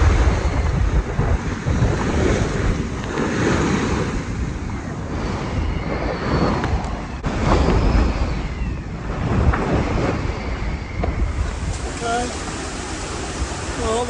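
Strong storm-front wind roars over a sailing yacht at sea on passage to Australia, with rain, gusts near 60 knots and six-metre waves. A loud, continuous rush of wind buffets the microphone and waves crash beneath it.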